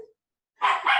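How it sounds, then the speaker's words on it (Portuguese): A small dog barks twice in quick succession, close and fairly loud, during a group conversation at home, after a brief moment of silence. "A minha cachorrinha tá querendo participar aqui, latindo"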